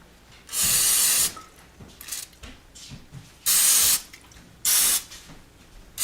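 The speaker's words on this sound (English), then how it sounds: "I'm going to spray it with some cooking spray." Three short hissing bursts of aerosol spray, each lasting under a second, separated by quiet pauses with soft handling noises.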